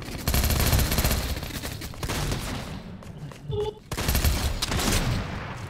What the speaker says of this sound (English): Shotgun head, boom!